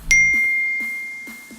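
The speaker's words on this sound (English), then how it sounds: "They'll get a push notification on their phone letting them know about your event." A bright single ding of a phone push notification sounds close and clear, ringing out with a sustained tone that slowly decays, while soft faint ticks repeat in the background.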